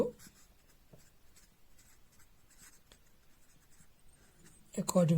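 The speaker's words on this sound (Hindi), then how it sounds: "तो यहां पे मैं लिखना चाहूंगा" Faint marker or chalk strokes on a classroom board during a chemistry lesson on the law of conservation of mass, soft scratchy taps scattered across several seconds, a teacher's voice rising briefly at the end.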